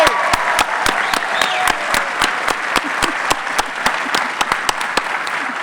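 An audience at a youth careers expo breakfast applauds students with loud, sustained clapping from a crowd, sharp individual claps standing out over the dense roar throughout.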